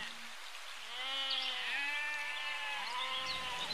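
A goat bleats in a long, wavering, nasal cry that rises and falls, loud and close, over a soft rain-like hiss.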